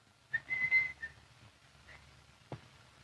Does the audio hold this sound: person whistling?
yes